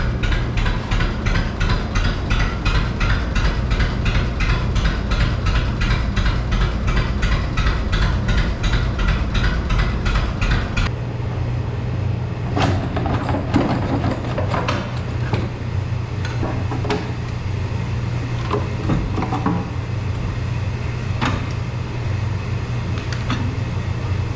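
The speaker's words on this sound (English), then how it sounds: "Oh, you can't beat it, old 2-cylinder John Deere. Love that sound." An old two-cylinder John Deere 530 tractor engine runs steadily, a loud continuous rumble with a rapid pulsing beat that later settles lower while scattered knocks and clanks sound over it, no voices.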